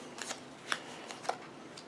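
Playing cards shuffled for a solo round of a combat card game, a few soft riffling bursts and light snaps spaced across a quiet stretch, faint and close.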